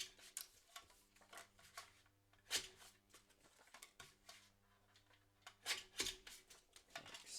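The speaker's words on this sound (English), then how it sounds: "I'm going to trim my photo slightly first." Scissors trim a photo for a scrapbook layout, a series of close, crisp snips and blade clicks in an irregular rhythm, quiet and alone with no talk.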